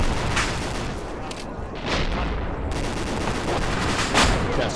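Dense, loud gunfire rolls through an Arma 2 firefight, with overlapping rifle and machine-gun bursts and heavy reports forming a continuous barrage with no pause.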